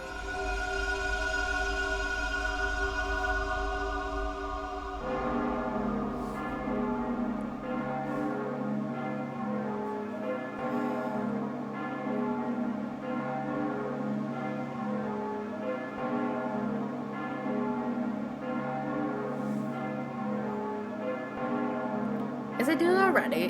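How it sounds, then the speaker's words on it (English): Cathedral bell in Fate/Grand Order, a video game: deep, resonant bell tones ring out and sustain over a steady background score, fairly faint, with a voice talking at points. "Maybe it's not the usual cathedral bell."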